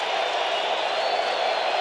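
Stadium crowd roaring steadily at an NFL game between the Falcons and Cowboys, a dense continuous wash of cheering voices with no breaks, loud and sustained throughout.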